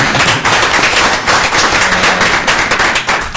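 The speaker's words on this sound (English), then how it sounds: "So, clap, clap, clap, clap, clap." Town board meeting attendees clap in appreciation, a dense, steady burst of applause from many hands filling the room at close range, with no talking over it.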